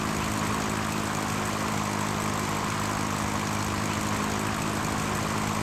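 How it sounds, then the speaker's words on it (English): Propeller airplane engine in the retro flight simulator Sierra Pro Pilot, a steady droning hum with constant loudness and no voices. "this aircraft is going all twitchy, twitchy, twitchy, twitch."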